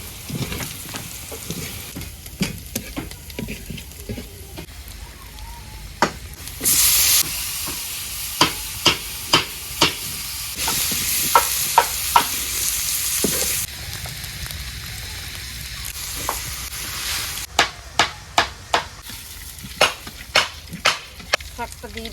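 Onions and jute greens fry in oil with turmeric, a steady close sizzle broken by sharp clicks and scrapes of stirring and a few louder bursts of hissing.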